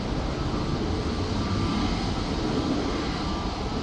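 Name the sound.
Boeing 737-800 taking off at Manchester Airport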